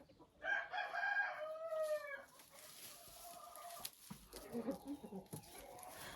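A hen clucks and calls nearby in a short rising-and-falling sequence, followed by softer clucks and faint rustling, with quiet surroundings.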